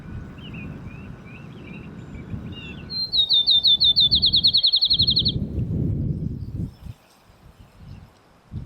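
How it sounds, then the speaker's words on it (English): A field sparrow sings a clear accelerating series of sweet whistled notes, like a bouncing ball speeding up, over rustling background noise and faint distant chirps. "Field sparrows have just arrived back on their territory, and it's great to hear their song again."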